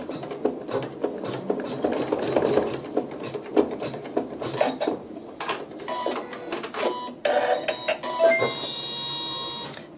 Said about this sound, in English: I'm going to put that needle drop right exactly on my seam line. So we'll stitch that.